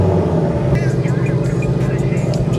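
A 2015–2023 Ford Mustang GT (S550) engine rumbles loudly and steadily just after being started with the push button, a continuous deep drone through the whole stretch, with a voice over it.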